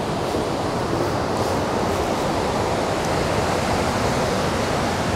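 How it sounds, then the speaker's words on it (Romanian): Vøringsfossen waterfall in Norway roars steadily, a dense, unbroken wash of falling water close by that fills the whole clip with no voices. "Chiar dacă cascada aia mare este în dreapta noastră"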